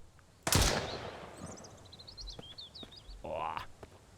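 A single sharp gunshot cracks out close and loud in the survival video game Mist Survival, followed by fainter whistling and chirping game sounds.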